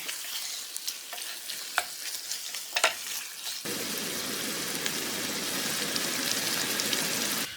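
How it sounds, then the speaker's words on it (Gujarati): Ghee roast beef masala stirred with a handful of fresh coriander: scattered scraping and clinking strokes first, then a steady close sizzle once the pan is worked, with no talk. "મુઠ્ઠી ભરી અને લીલા ધાણા બધાને છેલ્લી વખત આપણે ફેરવી દઈએ"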